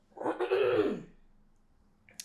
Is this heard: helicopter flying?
no